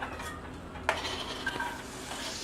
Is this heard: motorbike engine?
no